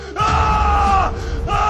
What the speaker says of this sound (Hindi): गुस्से में आ जाता है और चिल्लाने लगता है